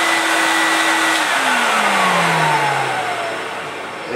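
A Hoover Module 900 vacuum cleaner with its original motor runs loud and close, a steady high whine and airy rush, its pitch dropping as the motor slows, with no voices.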